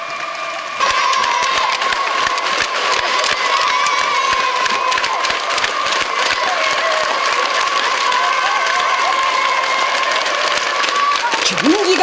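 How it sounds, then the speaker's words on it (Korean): A stadium crowd cheers and applauds at the end of a football match decided on penalties, a loud, sustained roar of clapping and shouting that swells after a brief quiet start and carries on throughout. "경기가 끝나자 또다시 우렁찬 만세 환호성이 경기장의 하늘가에 메아리쳐 갔습니다."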